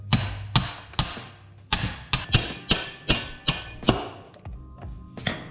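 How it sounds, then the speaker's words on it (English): A hammer taps lightly on a threaded rod driving out a motorcycle swing arm bolt, about a dozen sharp metallic knocks at an uneven, unhurried pace, close and clear with no voices. "lightly tap it to remove the swing arm bolt"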